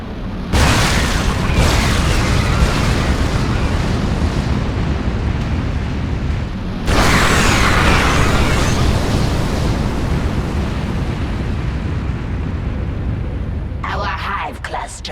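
A nuclear bomb detonates in StarCraft 2, a long loud roaring rumble that surges again midway, with voices speaking over the blast near the end.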